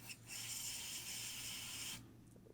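A can of CRC MAF cleaner sprays onto the mass airflow sensor of an Infiniti G37 or G35, giving one steady, close hiss for about a second and a half before cutting off.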